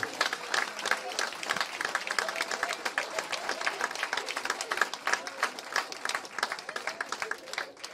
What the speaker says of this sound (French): Bonne main d'applaudissements encore, s'il vous plaît, pour nos diplômés des sciences de l'éducation et en sciences comptables.